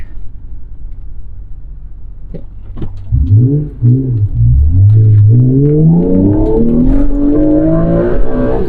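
A 1991 Acura NSX engine pulls hard under acceleration, its close, loud tone climbing steadily in pitch through a gear over a low road rumble, with no talking.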